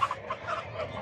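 Chickens cluck in the chicken section of a traditional Saturday market, a steady low murmur of fowl calls with brief brighter clucks over a continuous background.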